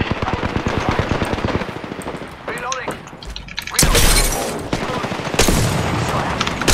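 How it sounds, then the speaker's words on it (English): Rapid automatic gunfire bursts in the Apex Legends battle royale, loud and close, with shattering impacts and booming hits, while players talk over the shooting. "Opening fire on the enemy."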